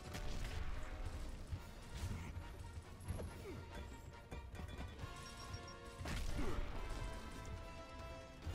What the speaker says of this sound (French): donc là usage de mes grenades